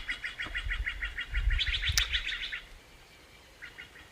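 Outdoor birdsong: a run of quick repeated chirps that speed up into a denser trill, a sharp single note, then a short faint burst after a pause, over low rumbling background.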